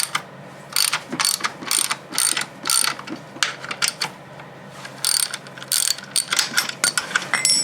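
A ratchet wrench backs bolts out of a bash plate in a garage, giving loud, close bursts of rapid clicking separated by brief pauses.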